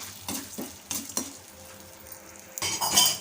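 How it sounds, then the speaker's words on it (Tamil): Urad dal roasting in a pan for a pumpkin side dish is stirred with a spoon, giving a few soft scraping strokes over a low sizzle, with a brighter rustling burst near the end. "சேர்த்து கலந்துக்கோங்க உளுத்தம்பருப்பு கொஞ்சம் வறுபட்டு வரட்டும்"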